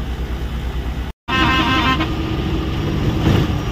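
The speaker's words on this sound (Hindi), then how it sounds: "भाई तेरे को क्या खुजली हो रही है हॉर्न बजाने की?" Loud traffic rumble with a truck horn honking over engine noise on a road, cut briefly by a moment of silence.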